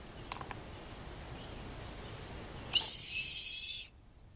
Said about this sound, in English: A survival whistle in a Ziploc bag